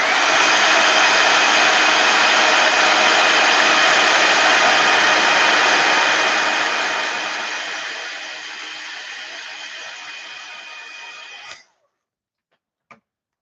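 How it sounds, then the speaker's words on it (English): A heat tool blows with a steady, loud whooshing hum while drying gesso on a mixed media card, then fades and switches off abruptly, followed by silence and a faint click. "So I'm using a heat tool to quickly dry the first layer of gesso"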